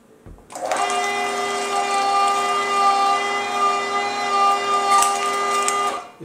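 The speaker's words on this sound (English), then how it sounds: "you want to start grinding your own meat" An electric meat grinder works through brisket and chuck, starting abruptly and running as a loud, steady motor whine with a strong tonal hum that holds for several seconds before cutting off.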